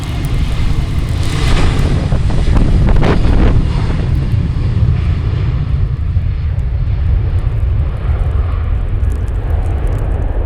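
An airliner, flight 4703 bound for New York JFK, roars past at Cleveland Hopkins during a winter storm, its engine rumble peaking early, then fading under steady gusts of wind buffeting the microphone.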